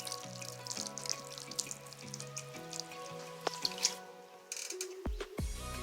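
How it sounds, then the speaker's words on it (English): Water splashes and trickles onto soil being wetted before arugula seedlings are transplanted, a soft close patter with some tonal ringing underneath and a few clearer drips near the end. "you want to wet the soil before transplanting them"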